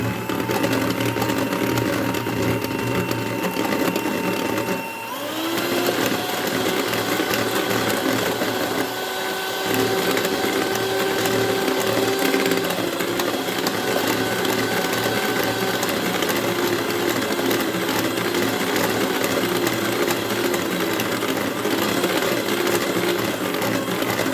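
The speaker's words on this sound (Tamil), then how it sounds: "இப்போ நல்லா பீட் பண்ணிக்கலாம்." An electric beater whirs steadily through honey cake batter, its motor a continuous close, loud hum that briefly dips and restarts before running on unbroken.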